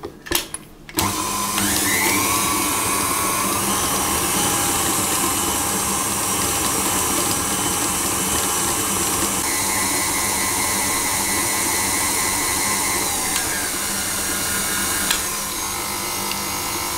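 After a short start-up, an electric mixer whirs loud and steady for many seconds while beating a sugar mixture for lamingtons until fluffy, its pitch shifting slightly now and then.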